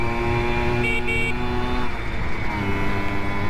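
A Simson S51 Enduro moped riding along a road, its small two-stroke engine droning steadily and close throughout, with a couple of short high tones briefly rising over the motor.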